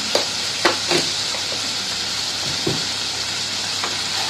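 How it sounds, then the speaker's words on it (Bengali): Potato chunks for vegetarian aloo dum sizzle in oil that has separated from the masala, a steady close frying hiss broken by a few sharp scraping clicks as the pan is stirred. "এবারে এটা নাড়বো তেল ছেড়ে গেছে"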